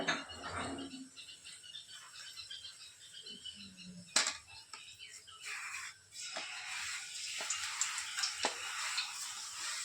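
Banana slices for wafers fry in hot oil with a continuous, moderate sizzle that grows busier, marked by scattered sharp clicks and pops from stirring.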